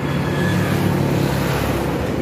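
A Yamaha R25 motorcycle with a modified, bored-out exhaust runs at high revs, giving a loud, steady engine roar that holds without a break for a couple of seconds.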